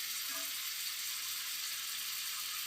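A cauliflower, potato and tilapia curry fries in a pan, with a constant close hiss of sizzling oil and no pauses.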